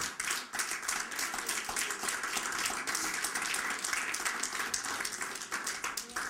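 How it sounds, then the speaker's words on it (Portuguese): Congregation in a church service clapping together, many hands producing a lively, slightly rhythmic patter that stays fairly even and moderately distant from start to end. "Você pode dar uma salva de palmas ao Senhor"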